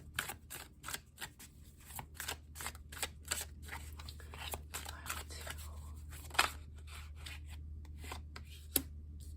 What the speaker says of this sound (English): Let's pull some cards and let's see.